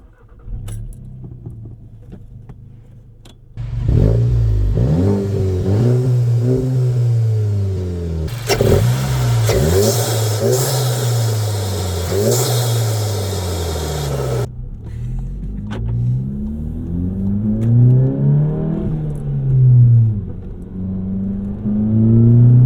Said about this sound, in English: This intake and exhaust pair up really nicely and create an awesome sound.